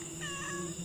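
A wild jungle cat meows in a dark outdoor setting, a short wavering cry that rises and falls over a steady noisy hum and insect-like background drone.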